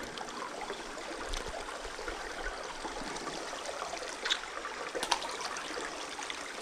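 A roadside creek flows by, a faint, steady trickle and babble of water with a couple of small splashy peaks near the end, heard alone without any talking.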